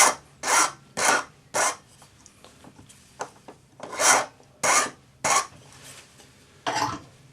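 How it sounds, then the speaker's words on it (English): A number 2 cut flat hand file rasps across the ends of earring wire in about a dozen short, separate strokes with an uneven rhythm, close by and fairly quiet, with no voices. "File the ends flat using a number 2 cut flat hand file."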